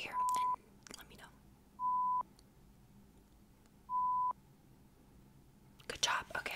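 Three clean, steady beeps of a hearing test play near the ear during a cranial nerve exam roleplay, evenly spaced with quiet gaps, followed by soft whispering.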